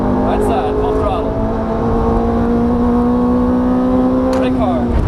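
A Ferrari F430 F1 on a racing circuit at full throttle, its engine note holding a loud, steady drone that climbs gently in pitch, with an instructor's voice briefly over it.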